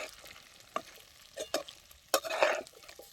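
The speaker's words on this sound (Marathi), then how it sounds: "हे बी तेलात चांगला सौदा खालवर करून घ्यायचा" Pre-roasted masala stuffing for brinjal curry is stirred and fried in hot oil, giving soft sizzling broken by a few distinct spoon scrapes. The stirring is busiest toward the end, and no one speaks.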